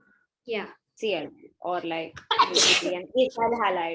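A single sharp sneeze bursts out in the middle of a classroom chemistry lesson, set between stretches of close, clear talking.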